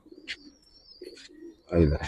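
Giribaz green-necked pigeons coo softly in a few short, low calls, with a thin whistle and brief chirps between them and a louder burst of cooing at the end.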